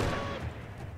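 Rifle volleys crackle in a video game battle from the Mahdist Rebellion on the march to Cairo, a dense, continuous burst of overlapping shots for about a second.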